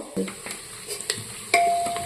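Onion fries in a pan with cumin, coriander and chili powder for local chicken, stirred with a spatula: close scraping strokes and soft sizzling, then a sustained whistle-like tone begins near the end.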